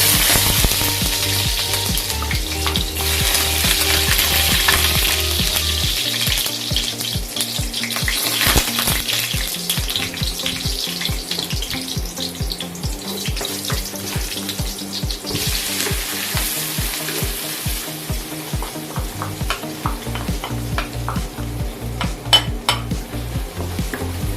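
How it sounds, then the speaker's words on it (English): Garlic and onion stir-frying in a pan for a potato curry puff filling, a steady sizzle with frequent clinks and scrapes of a utensil against the pan throughout, close and loud, with no talking. "Stir fry the garlic and the bawang besar."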